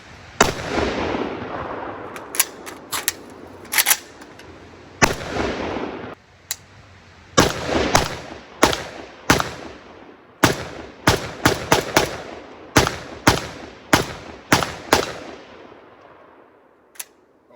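Repeated gunshots from a Zastava ZPAP 85 AK-pattern rifle, sharp loud cracks fired singly and in quick clusters with short pauses between, close and alone without talk.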